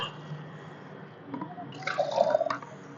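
Homemade organic liquid fertilizer from cow, goat and chicken manure is poured onto garden plants, a close, short splashing trickle that swells for about a second before tapering off.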